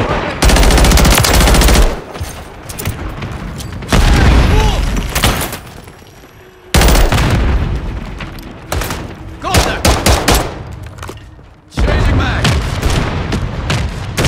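Rapid automatic gunfire in a Call of Duty team deathmatch on the Hostel map, loud and close, in several long bursts separated by brief lulls, with rattling shots and booming impacts throughout.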